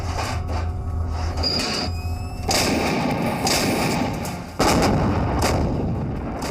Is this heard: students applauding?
no